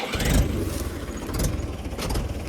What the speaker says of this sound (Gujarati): ખેંચો ટ્રેક્ટર વાળા ભાઈ લાલભાઈ